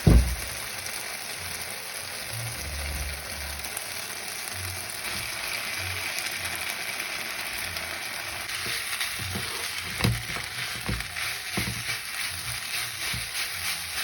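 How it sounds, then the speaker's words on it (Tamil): Steady frying sizzle of noodles in a hot pan, with occasional scraping and clinking of utensils toward the end, no voices. "இப்போ நான் நறுக்கி வைக்கிற நூடுல்ஸை போட போகிறேன்"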